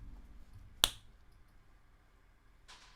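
A single sharp fist clap imitates a stage combat punch, one crisp close smack in an otherwise quiet room, followed later by a faint brief rustle.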